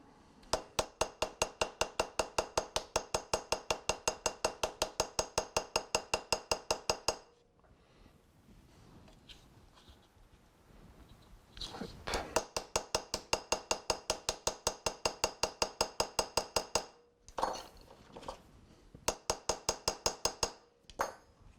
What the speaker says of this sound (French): l'idée c'est de taper sur le rivet de façon à ce qu'il s'évase et à ce qu'on ait un serrage suffisant de la lame